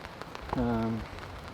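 Light rain patters faintly on an umbrella outdoors, a soft scattered tapping throughout, briefly overlaid by a short clear tonal beep.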